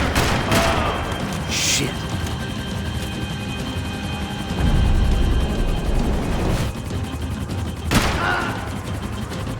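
Gunfire erupts in Max Payne 3 amid a combat scene, with sharp bursts of shots over a continuous mechanical rumble like a helicopter, loud and close, while a voice briefly curses.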